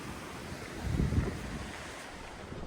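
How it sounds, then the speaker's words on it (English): The West Dart River on Dartmoor, swollen and in full flow after heavy rain, gives a steady broadband rush of water with some wind buffeting the microphone and a brief louder surge partway through. "This is the West Dart River. It's in full flow after all the rain we've been having recently."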